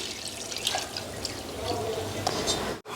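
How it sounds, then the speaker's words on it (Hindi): Water pouring into a cooking pot for yakhni pulao, a steady moderate splashing stream with a few brighter drips, fairly close and continuous until it cuts off abruptly at the end. "पानी ऐड करेंगे और अब जाएगा पानी"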